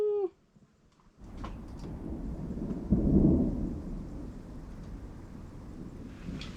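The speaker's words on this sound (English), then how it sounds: "So it's starting to come down and the thunder is starting to roll." A thunderstorm passes over an RV campsite: after a short quiet gap, a long low rumble of rolling thunder swells and fades, with steady rain hissing underneath.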